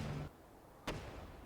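A single sharp cannon blast booms out in the vehicle-building game TerraTech, loud and abrupt, against a low rumbling background with no talk.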